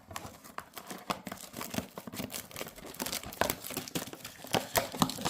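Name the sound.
tearing open a trading card mega box package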